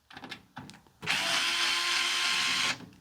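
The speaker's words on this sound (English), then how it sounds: "So let me give you an example how well it works with these." Small rechargeable electric screwdriver takes out tough power supply screws up close: a few light clicks and taps, then one steady high whirring run lasting under two seconds before it stops.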